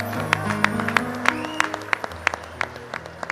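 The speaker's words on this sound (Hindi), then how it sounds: "तो ताली बजा दो एक बार।" An audience at a Hindi poetry recital claps at a wedding-themed comedy poetry event, sharp individual claps spaced out over a steady tonal hum from the hall, fairly loud and close.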